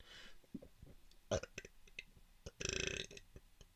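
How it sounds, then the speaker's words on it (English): A person gives a single short, low burp near the end, set among soft clicks and small mouth noises in a quiet room. "Ooh, I'm burping now."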